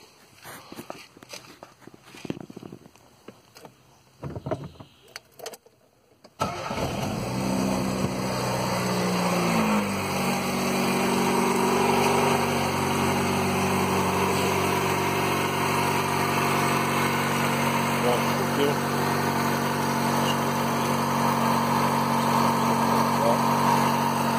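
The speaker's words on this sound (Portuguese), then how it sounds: "Vou ligar o carro aqui agora para vocês verem" A car engine adapted to run on gasoline vapor is started after some brief handling noises, then settles into a steady, close idle that runs continuously for the rest of the clip.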